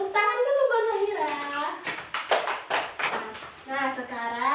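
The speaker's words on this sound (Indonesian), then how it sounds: "Tepuk tangan dulu buat Zahira." Brief scattered clapping from a classroom of pupils applauding a classmate named Zahira, a few sharp irregular claps between a teacher's voice before and after.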